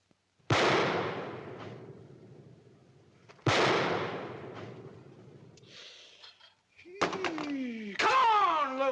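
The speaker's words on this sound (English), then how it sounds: "Now lift up that pistol and shoot." Two sharp, loud pistol-like bangs about three seconds apart, each ringing off into a long decaying rumble, followed by brief chatter and a burst of lively piano music.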